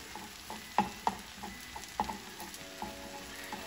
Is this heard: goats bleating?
no